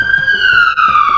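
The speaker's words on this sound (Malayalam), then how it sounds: "ആംബുലൻസ് വരുന്നു. കണ്ടാ?" An ambulance siren wails steadily and loudly nearby, its tone sliding gradually downward as the vehicle passes along a residential street.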